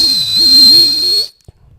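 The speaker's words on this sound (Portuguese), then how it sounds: "E o apito é..." A traffic officer's whistle gives one loud, sustained blast with a wavering pitch, lasting over a second before cutting off abruptly, followed by a brief faint knock.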